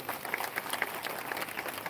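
An audience at a live lecture gives a short burst of scattered applause, a dense patter of claps heard from a moderate distance.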